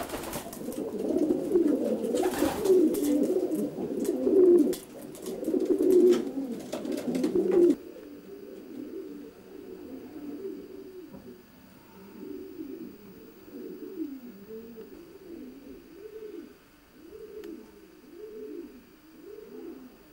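Racing pigeon stock cocks cooing in a loft, a steady run of repeated soft, rolling coos close by, with a rustling, noisier stretch in the first several seconds before the cooing carries on alone.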